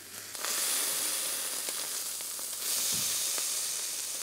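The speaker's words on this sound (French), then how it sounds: "Sur une poêle grill, je mets le poisson à griller côté peau." Fish sizzles skin-side down in olive oil on a hot grill pan, a steady loud hiss that swells after a moment and keeps going, with a faint low thump partway through.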